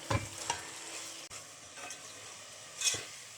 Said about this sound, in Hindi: अब इसमें हम ये कीमा डाल रहे हैं